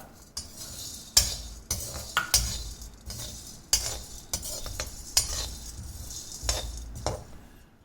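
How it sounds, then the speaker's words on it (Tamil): Pepper, cumin and fennel seeds dry roasting in a kadai, with repeated metallic scrapes and clinks of a spoon against the pan in an irregular rhythm, fairly close and with no talk. "இப்போ சோம்பையும் அதில் சேர்த்துட்டு நல்லா வறுத்துக்கலாம்"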